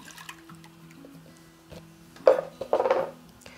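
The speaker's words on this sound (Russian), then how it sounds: "В сотейник наливаю молоко." Milk poured into a saucepan for a dessert, two short bursts of close liquid splashing and filling after a quiet stretch, with faint kitchen background hum.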